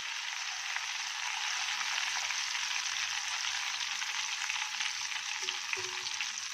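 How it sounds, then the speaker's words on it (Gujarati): Slices of raw banana deep-fry as crispy wafers in hot oil. A steady, dense sizzle and bubbling carries on evenly from start to finish with no voices. "હવે એને ક્રિસ્પી તળી લઈએ"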